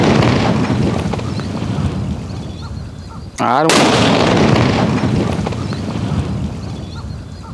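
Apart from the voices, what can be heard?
mega paper bomb firecracker exploding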